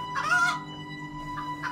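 A chicken clucks inside a house in a short bright burst, followed by a pair of softer, fainter clucks against a steady background hum; no one speaks.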